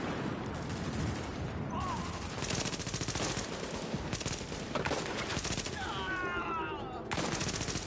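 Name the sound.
gunfire in video game The Division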